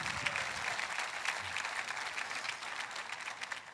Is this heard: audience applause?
yes